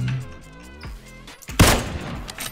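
A single loud Kar98k rifle shot cracks out midway through in PlayerUnknown's Battlegrounds, preceded by synthetic game tones and followed by a brief rumbling tail.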